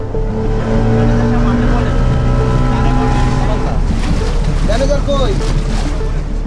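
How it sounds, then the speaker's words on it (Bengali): Loud droning engines of two speedboats and two trawlers rumble steadily on a river, with a higher whine from a speedboat rising toward the end. "দূর থেকেই বোঝা যাচ্ছে আমাদের অনুসরণ করছে দুটি স্পিড বোট ও দুটি ট্রলার।"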